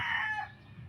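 A brief, faint crow from a six-week-old rooster, a short strained call that trails off.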